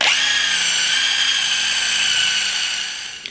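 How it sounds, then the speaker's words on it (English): Loud, high-pitched whine of a wire wheel spinning on an impact driver, scrubbing rust off a wheel stud, holding steady for about three seconds before winding down, with no voices. "I'm gonna grab a wire wheel on the end of my impact driver, and I'm just gonna clean up the rust that's on here"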